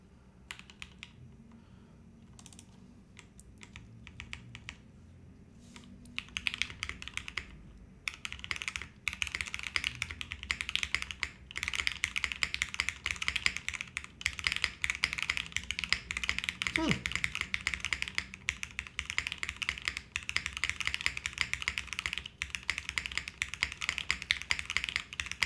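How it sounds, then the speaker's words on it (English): Typing on a Fukuro prototype mechanical keyboard, a dense, continuous run of close key clacks that starts sparse and quickly becomes steady and rapid, with no pauses. "I want to keep typing a little bit more on it."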